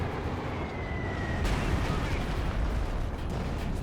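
A Stuka bomb explodes in Company of Heroes 2, a sharp blast striking mid-clip and followed by a rumbling, noisy tail of battle sound at fairly close range.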